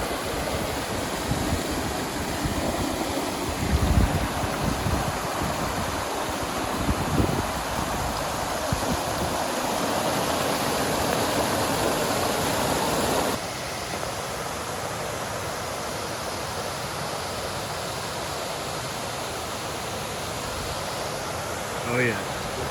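Mayo River State Park waterfalls in North Carolina roar as a steady broadband rush of falling water, with brief rustling and handling bumps early on before the wash settles slightly quieter.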